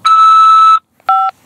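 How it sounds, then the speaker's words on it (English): Telephone keypad tones on a collect call from a corrections facility: a long steady tone followed after a short gap by a brief dual-tone keypress beep, loud and close with no voices. "press 5 to accept this call."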